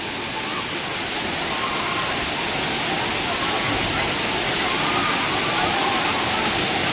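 Water pours steadily from above in a waterfall, a dense, continuous rushing roar that fills the whole stretch without letup, close and loud, with no clear talk standing out over it.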